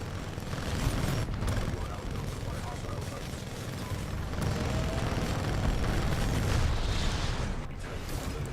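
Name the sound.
explosion in Titanfall 2 video game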